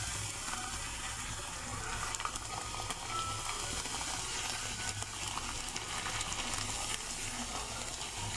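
Fuchka puris deep-frying in hot oil, giving a continuous soft crackling sizzle with faint bubbling that stays fairly quiet and even throughout, with no voices.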